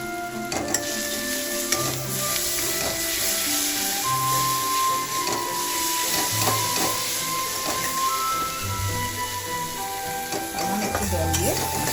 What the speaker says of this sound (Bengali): একটু জল দিয়ে মশলাটাকে কষিয়ে নেব।